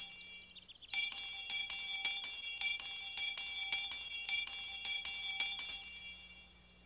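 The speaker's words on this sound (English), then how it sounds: "Here's the school bell. Ring it and see who comes to school." A cartoon school bell starts after a brief quiet moment, then rings continuously with bright, rapid tinkling strokes at a steady pace, fading slightly toward the end.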